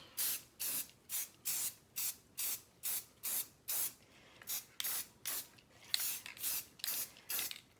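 Spray paint goes onto wreath letters in a light coat, a quick series of short, even hissing bursts from the can with brief pauses between them, close and fairly quiet.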